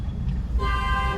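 A single car horn honk begins midway and holds steadily over a low engine rumble, in a car driven slowly in first or second gear.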